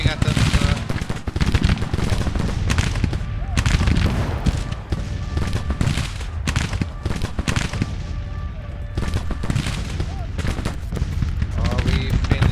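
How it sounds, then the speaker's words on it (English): Heavy rolling volleys of troop gunfire in a Grand Tactician battle for Saint Louis, a loud, dense crackle of massed rifles and booms that continues without a break. "Keep firing at them."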